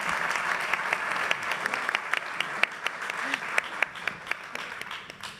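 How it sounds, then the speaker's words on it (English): A conference audience at a summit applauds steadily, many hands clapping in a dense, even patter at moderate distance, sustained for several seconds with a few sharper individual claps standing out. "Can we just give him a round of applause?"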